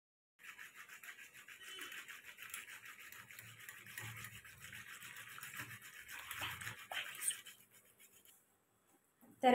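Spoon or whisk stirring chilled curd with cumin in a vessel to make buttermilk at home, giving soft, steady scraping and swishing for several seconds, quiet and close with no speech.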